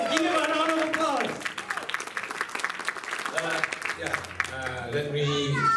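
Music festival crowd applause rises in scattered, moderately loud claps between stretches of a voice on a microphone.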